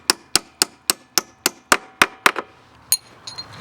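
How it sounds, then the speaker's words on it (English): A hammer taps a steel footpeg pin into a motorcycle footpeg mount, about ten sharp metallic knocks at a steady rhythm, with a couple of lighter taps after a short pause; close and loud with no talking. "just tap it in with the hammer"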